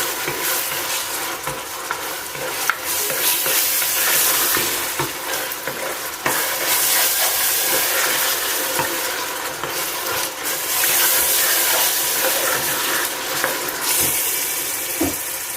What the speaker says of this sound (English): We're gonna let our tin tomato to fry for some time before we can introduce the other one, the blended tomato.